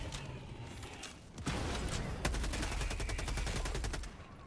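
Gunfire in the video game Helldivers 2: a sharp single shot, then sustained rapid automatic bursts of evenly spaced cracks, loud and close, ending in a brief tail.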